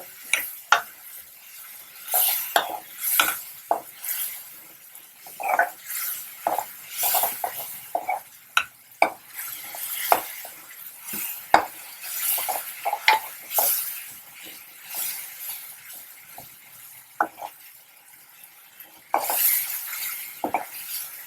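Masala with green chillies stirred and frying in a pan for Bengali cholar dal, a close, soft sizzle under repeated scraping and clinking spoon strokes in an irregular rhythm, with no talk.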